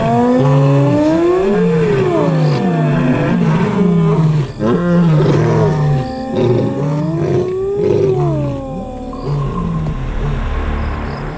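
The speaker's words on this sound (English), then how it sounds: "Night after night, the hyenas and the cats roar into the darkness." Lions and hyenas roar into the darkness at night on a clan's contested turf, loud overlapping calls with rising and falling whoops and deep roars repeating throughout, close and continuous without speech.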